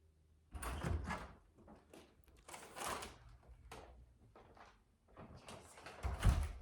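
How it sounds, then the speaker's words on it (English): An interior house door opens as someone comes in from the garage: a few soft, fairly faint thumps and rattles of the latch and door in a quiet home, with no talk over it. "I just heard the garage door open, so that means someone will be walking through this door"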